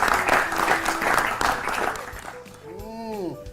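A short burst of audience applause on a children's classroom quiz show, loud clapping for about two seconds that fades as a voice and a bright musical jingle take over.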